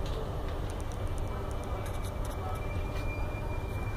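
An RER D Z20500 commuter train runs between Maisons-Alfort–Alfortville and Corbeil-Essonnes, heard from inside the carriage. A steady low rumble is broken by faint, irregular rail clicks and ticks.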